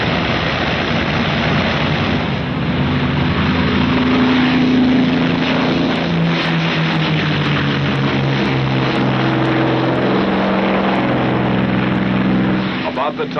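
A World War II propeller aircraft engine gives a continuous, loud, throbbing drone that holds steady for the whole stretch of more than thirteen seconds.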